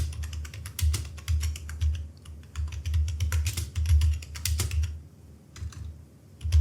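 Rapid, close clicking of a computer keyboard as a prompt is typed, in uneven bursts with brief pauses and no speech.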